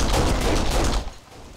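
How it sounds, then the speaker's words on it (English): Close, loud machine gun fire in the video game Kane & Lynch: Dead Men, a fast continuous burst for about a second that then cuts off into quieter background noise. "That guy had a machine gun."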